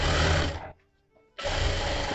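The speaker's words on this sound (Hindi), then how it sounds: "मैं डायरेक्ट सिलाई लगाऊंगा" A sewing machine runs in a fast, steady whir while stitching a princess cut blouse, stops for about half a second, then starts again at the same close, loud speed.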